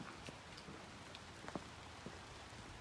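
Steady rain patters outside a house near the ocean in San Clemente, with a dense, even hiss and occasional distinct drops landing close by.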